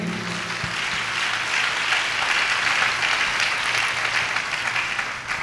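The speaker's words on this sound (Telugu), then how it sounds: "చప్పట్లు కొట్టండి గట్టిగా" A church congregation at a Christian worship service applauds loudly and steadily, a dense, sustained wash of clapping from many hands that fills the space without pause.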